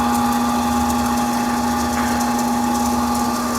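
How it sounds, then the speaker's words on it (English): A Brown & Sharpe 10 x 20 universal I.D./O.D. cylindrical grinder runs with its table traversing, headstock turning and external wheel spinning, giving a steady, loud machine drone with a strong constant whine and no talk. "right now I have the machine set up to go left and right and have my headstock going, along with the external wheel"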